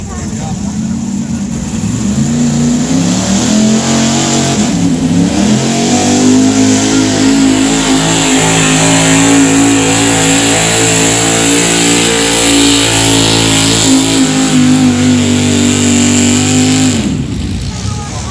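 Big block Ford truck engine in a truck pull at Mercer Raceway Park, a loud sustained roar that climbs and holds at high revs before cutting off, with an announcer talking over it.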